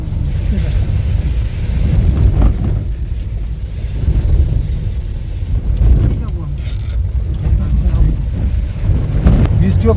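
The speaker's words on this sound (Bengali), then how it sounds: "এত হাওয়া দিচ্ছে" Strong wind on a cold, rainy mountain roadside near the India–China border at Tawang, roaring and buffeting heavily against the microphone in loud gusts, with a voice talking under it.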